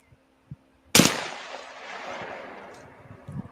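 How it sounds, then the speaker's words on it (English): A single loud explosion blasts suddenly after a couple of faint taps, then a long roaring rumble and debris wash slowly dies away, heard as footage played back. "Is this another explosion I sent you?"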